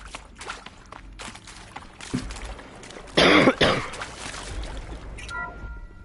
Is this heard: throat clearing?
yes